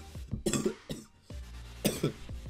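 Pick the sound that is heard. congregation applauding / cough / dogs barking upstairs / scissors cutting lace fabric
cough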